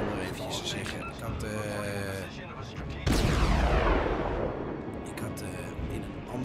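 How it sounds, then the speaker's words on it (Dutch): Naval guns of the Kolberg cruiser firing in World of Warships, one loud booming salvo midway with a long rumbling decay, preceded by engine and ambient noise while someone talks over it. "Schoten gelost."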